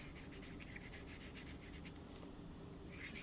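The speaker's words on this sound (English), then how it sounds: "Go ahead and put some ink on these edges as well." Soft, rhythmic rubbing as ink is dabbed along the paper edges of a junk journal insert, with quick light strokes, close and faint.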